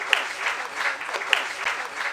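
An audience at a junior insurance awareness quiz final gives a short, brisk burst of clapping, with a few sharp claps standing out.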